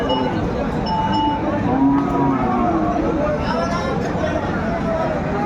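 Cattle, large bulls at a livestock market in Aftabganj, Dinajpur, low and moo amid a busy crowd, with people chattering, bargaining and calling in the background and occasional clinks.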